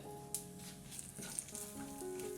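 Quiet sizzling of whole spices and two dried whole red chillies frying in hot oil for a chana dal tadka, with a faint humming tone underneath and a couple of small clinks.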